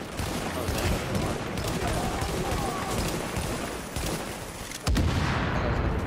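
Gunfire in The Division during an Incursion mission, a dense run of rapid shots crackling close and loud across the whole stretch, with a sharper burst near the end.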